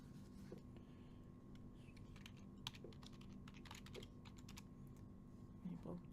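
Computer keyboard typing heard faintly, irregular clusters of light key clicks spread across several seconds over a steady background hum, with brief muffled sounds near the end.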